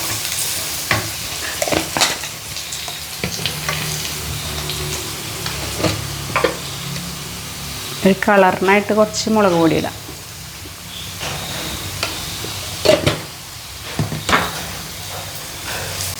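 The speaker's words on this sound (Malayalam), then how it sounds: "ഇപ്പം നല്ലോണം മുരിഞ്ഞ് വരുന്നുണ്ട് കേട്ടോ." Mushrooms roasting in a pan with turmeric and chili powder, stirred with steady scraping and a soft sizzle, punctuated by a few sharper clatters, while a voice talks over the cooking.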